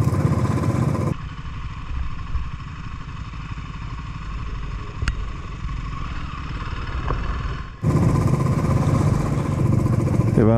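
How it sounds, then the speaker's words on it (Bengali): Motorcycle engine on a mountain road on the ride from Bumla Pass to Zemithang in Arunachal Pradesh, a steady mid-pitched drone with loud wind rush at the start and end. "অনেকক্ষণ ধরে বাইক চালাচ্ছি তো।"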